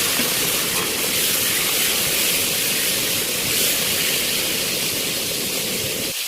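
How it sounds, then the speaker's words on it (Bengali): Pointed gourd (potol) pieces fry in hot mustard oil in a kadai with a loud, steady, broadband sizzle and hiss that runs unbroken the whole time and cuts out abruptly at the very end. "এরপরে পটলগুলো দিয়ে দিয়ে ভেজে নেব।"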